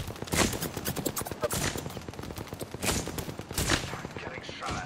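Rapid bursts of gunfire in an Apex Legends match, dense fusillades swelling and fading in waves over several seconds, loud and close with overlapping shots.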